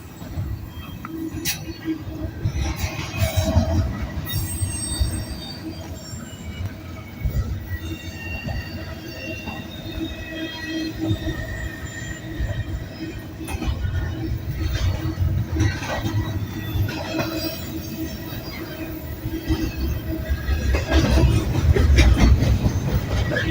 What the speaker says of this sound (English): This train is picking up speed, man. It's a long train, too.